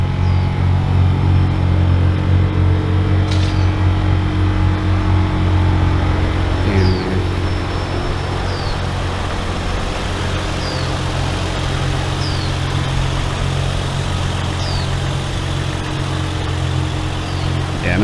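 A barn-find Nissan G35 wide body car idles steadily up close with a low, even engine hum, continuous throughout with little change in level.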